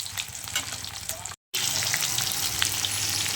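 Rohu fish pieces fry in hot oil for a Bengali fish curry, giving a steady close crackling sizzle with a brief silent break before the frying resumes, louder and denser.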